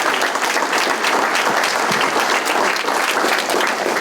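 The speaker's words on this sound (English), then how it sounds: "how about one more round of applause for all of their inductees here this evening" A large audience applauds Hall of Fame inductees at a sports Hall of Fame evening, dense continuous clapping at steady loudness throughout.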